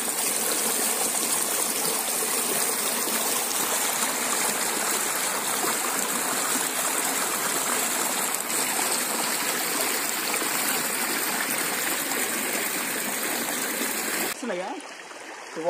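A small stream runs continuously down a hillside, producing a loud, steady rushing and gurgling close by that shifts briefly near the end.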